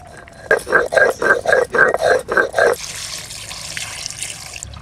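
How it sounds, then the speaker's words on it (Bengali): A tap runs steadily into a sink while raw chicken is rinsed under it, a close, even hiss of flowing water following a few seconds of short rhythmic voiced talk. "এদিকে আমি চিকেনটা ধুয়ে নিচ্ছি"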